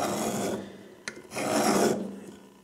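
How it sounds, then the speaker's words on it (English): Steel caliper jaw dragged across a metal workpiece to scribe a line, a close raspy scraping stroke, a short tick, then a second longer scrape fading out, with no talking. "You can run the edge of one jaw on the outside and drag the other one across"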